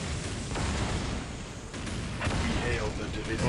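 Dense battle noise in the Dawn of War real-time strategy game, with constant overlapping gunfire, blasts and mechanical clatter forming a loud, continuous roar; a commentator talks over it.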